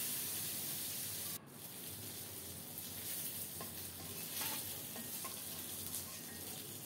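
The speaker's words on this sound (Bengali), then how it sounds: "রুই মাছের পিসগুলো হলুদ লবণ মাখিয়ে লাল লাল করে ভেজে নেব।" Rohu fish pieces coated in turmeric and salt frying in hot oil, a steady, moderately quiet sizzle that holds throughout with a brief sharp clatter near the start.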